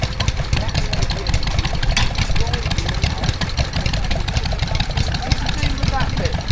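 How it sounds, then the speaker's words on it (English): A Lister D stationary engine runs at a show-ground transport festival, a steady close thudding idle that holds an even rhythm throughout, with background crowd noise. "There's the Lister D running the kitchen sink."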